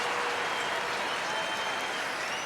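The crowd at a 1997 Brier curling playoff game applauds as Alberta takes the lead, a steady wash of clapping heard at a distance that holds for the whole stretch.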